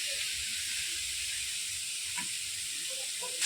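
Grated coconut and jaggery cooking in a wok to make a sweet filling, a soft steady hiss of gentle frying running throughout, faint and even with a small clatter near the end.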